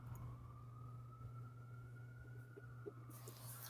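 An emergency vehicle siren wails outside in a steady, drawn-out tone, faint and distant beneath a low background hum.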